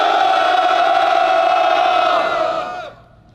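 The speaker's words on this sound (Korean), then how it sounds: "함성 3초간 발사!" A crowd at a union press conference lets out a loud, sustained collective shout for about three seconds, then it abruptly cuts off into quiet.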